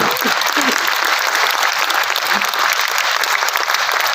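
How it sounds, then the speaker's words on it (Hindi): Loud, dense applause from a large audience at a Hindi poetry recital fills the space as a continuous, even roar of clapping with no pauses. "खूनी सुनेंगे साहब तालिबान तो एक बार जम के तालियां बजाइए"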